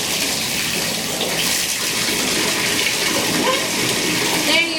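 A Mr. Bubble bath fizzy dissolves in bath water, giving a steady bright hiss and fizz with water sloshing in the tub, heard close up for several seconds.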